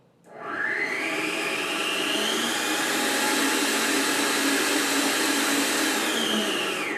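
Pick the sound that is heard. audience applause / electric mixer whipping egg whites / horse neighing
electric mixer whipping egg whites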